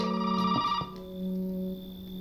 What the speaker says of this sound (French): Et le téléphone sonne !